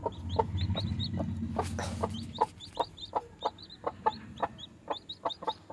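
A native country hen clucks at her brooding nest, a steady run of short, close clucks repeating in quick rhythm, with a low rumbling murmur underneath for the first two seconds.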